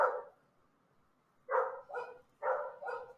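Two dogs trade short barks and yips, first a lone bark, then two paired bursts close together, fairly near and clear against a quiet background with no talk.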